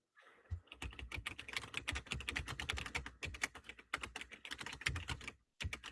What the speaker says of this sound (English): I'm typing something really quick.